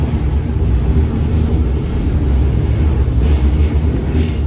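A Manchester Metrolink tram rumbles steadily along curved track, a loud, continuous low roar of wheels and motor that stays close and even with no voices.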